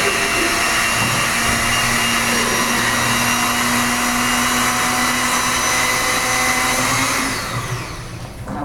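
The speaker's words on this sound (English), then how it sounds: "you want to make sure you put the lid on your blender" A kitchen blender with its lid on runs at a loud, steady high-pitched whine for about seven seconds, then spins down and fades.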